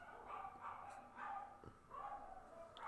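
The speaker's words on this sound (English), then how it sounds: "dogs are wilding" Several dogs bark and yip in short bursts, three or four rising calls spread across the moment, moderately close, with faint background noise and no clear talk over them.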